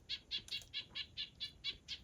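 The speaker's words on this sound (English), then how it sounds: "I guess it's not this bird making the noise. Oh, yeah, it's another bird up there." A bird calls repeatedly close by on a mountain peak along the Appalachian Trail, about eight evenly spaced high chirps in quick rhythm, clear and alone over quiet ambience.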